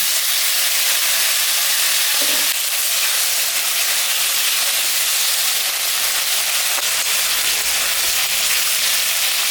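Chopped onions frying in a pan for a thin tangra fish curry with brinjal: a steady, even sizzle and hiss that continues without a break and with no talking.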